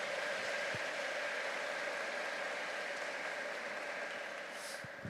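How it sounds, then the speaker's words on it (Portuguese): Sustained applause from a church congregation honouring helpers who stand up, a steady dense wash of clapping at moderate distance that continues evenly with no voices on top. "que vocês pudessem honrá-los com uma salva de palmas"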